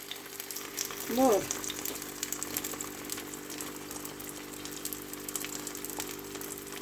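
Potato slices frying in a pan give a steady, soft sizzle through the whole stretch, with a brief louder burst near the start as a voice asks for more.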